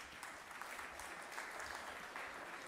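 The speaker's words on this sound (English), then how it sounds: "Give them big round of applause." Steady round of applause from a workshop audience at a national hidden-hunger and food-fortification event, dense even clapping filling the room for a few seconds with no voices over it.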